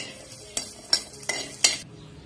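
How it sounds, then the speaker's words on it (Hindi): Ginger and garlic being sautéed in a wok, with four sharp stirring clatters of a utensil against the pan over a faint background sizzle, no talking. "अब सेम कढ़ाई में मैं थोड़ा अदरक लहसुन को डाल के इसे हल्का सा सौते कर दूंगी"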